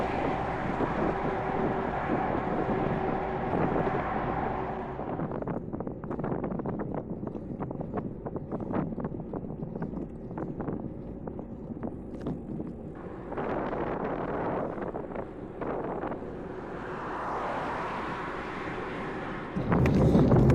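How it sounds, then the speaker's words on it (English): Strong headwind buffeting a lone touring cyclist on a busy road up a steep hill, a loud continuous rushing roar with gusts that swell and ease, close to the microphone and with no talk. "The headwind as well was making this pretty tough."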